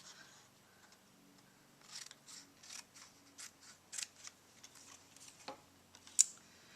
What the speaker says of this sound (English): I'm going to take my scissors, or again, you can go to your cutter, your Stampin' Trimmer, and just trim these off